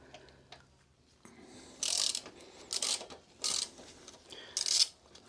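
A 6 mm Allen key turning the fork pinch bolt on a Shore front fork of a Harley-Davidson Road King Police, giving four short metallic clicking bursts at uneven intervals over a quiet background.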